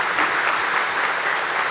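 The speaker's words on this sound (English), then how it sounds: "Yeah, you can go ahead and clap." A church audience breaks into dense, continuous clapping that stays at an even level throughout, close and fairly loud, with no voices over it.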